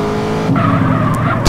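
Car driving in the multiplayer game SAMP, with a loud engine and a sharp tire skid and squeal in a short burst, no talking.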